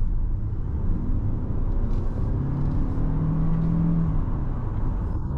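A 2024 Toyota RAV4 PHEV plug-in hybrid accelerates on the road, heard as a steady, fairly loud low rumble of road and drivetrain noise with a faint tone rising in pitch as speed builds, and no talking.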